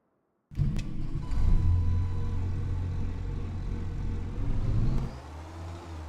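A tractor engine in a farming video game starts abruptly, then settles into a steady droning run with a couple of rises in revs before dropping back to idle, close and alone with no talk.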